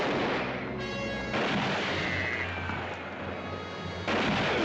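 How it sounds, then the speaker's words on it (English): Rifle shots and booming gunfire in a Bonanza western TV episode, a steady loud wash of repeated firing and echoing blasts lasting the whole stretch, with no talk over it. "We got the rifle action now."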